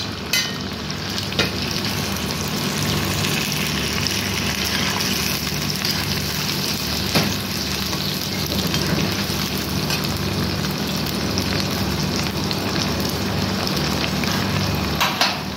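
Okra frying in hot oil, a loud, steady, close sizzle and crackle that continues without a break for the whole stretch, with no talking.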